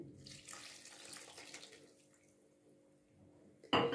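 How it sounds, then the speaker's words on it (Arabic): Yeast and water mixture poured from a bowl into ka'ak cookie dough in a home kitchen, a steady close liquid pour and splash lasting a few seconds, fading out before a short sharp clatter at the end. "في الوقت ده هحط خليط الخميره"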